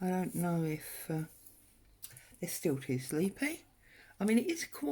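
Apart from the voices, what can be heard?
No distinct noise like a dog, phone or traffic.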